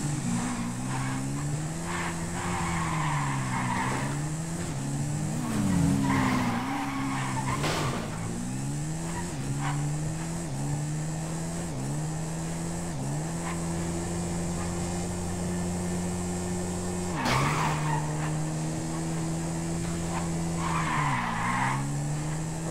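An upgraded 2021 KTM dirt bike racing in GTA 5, with a loud, steady engine drone that rises and dips through gear shifts, plus repeated tire skids and screeches throughout.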